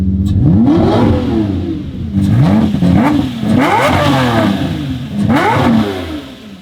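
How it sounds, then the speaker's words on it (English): A hypercar engine revs hard several times in a row, each blip rising sharply in pitch and then falling back, loud and close with no talking. "You got to rev my car to see what I mean."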